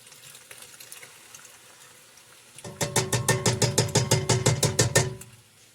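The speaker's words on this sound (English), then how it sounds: "the noodles are almost ready to drain, so I have to do that really quick" Boiled pasta noodles being drained in a home kitchen while making pasta con broccoli: a soft watery rush from the start, then a louder, pulsing gush of water pouring and splashing in rapid rhythmic bursts before it stops.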